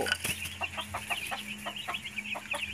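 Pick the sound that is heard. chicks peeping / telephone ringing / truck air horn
chicks peeping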